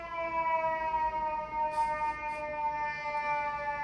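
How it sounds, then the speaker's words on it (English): A sustained siren wails in the distance, holding a steady droning tone, with no talking. "you hear the dramatic sirens"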